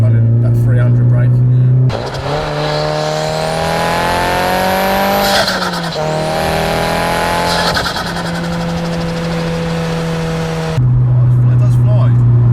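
Nissan Silvia S15 with an SR20DET engine, driven hard: loud close engine revving up through gears with shifts and a brief squeal, under faint talk.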